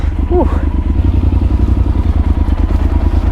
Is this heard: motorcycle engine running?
yes